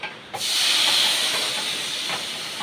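Loud, sustained hiss as water is poured into a hot pan while making rava kesari, starting abruptly and slowly fading while staying strong.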